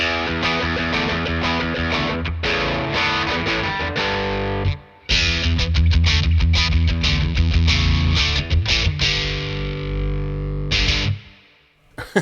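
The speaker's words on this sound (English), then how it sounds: "You just hear how much sound changes, you know, just by having an EQ pedal" Electric guitar run through a Boss EQ-200 EQ pedal, loud, distorted strummed chords with a brief gap near the middle and a ringing fade at the end, no speech.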